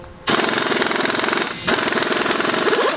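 An impact wrench loosens a large castle nut on a third-generation truck in two loud, close bursts of rapid hammering rattle, separated by a brief pause, with no talk.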